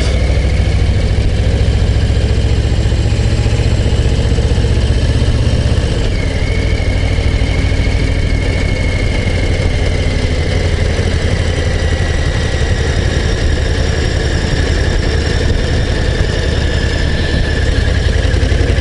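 A car engine idles steadily at about 1300 rpm on a Haute-Savoie mountain road, a loud continuous rumble with a constant low drone and no talk throughout.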